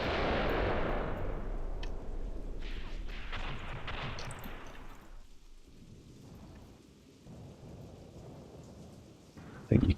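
Gunfire and explosions in the war game Graviteam Tactics form a heavy, rumbling boom that fades into distant muffled gunfire and a low roar. A sharp crack sounds at the end, and no one speaks.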